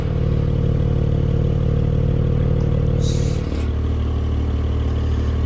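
A Porsche 718 GTS 4.0 flat-six fitted with a Soul valve exhaust holds a loud, close, steady idle-to-rev drone with strong low harmonics, then the pitch drops and settles lower partway through as the revs fall back.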